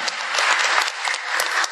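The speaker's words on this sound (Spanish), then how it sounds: "Aplauso." Audience applause at a 2022 concert, a dense and steady wash of many hands clapping. It is loud and continuous throughout, with no voice over it.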